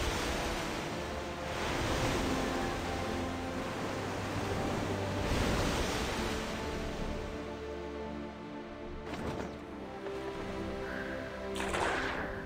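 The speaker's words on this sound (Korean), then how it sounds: "여기 되게 파도 소리도 녹음을 잘했어요" Ocean surf from the PS5 game Black Desert, a steady broadband wash of waves that swells and recedes in slow surges, with no speech over it.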